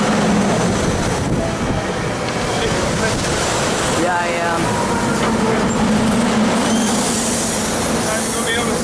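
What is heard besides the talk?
Amtrak train passing through Villanova station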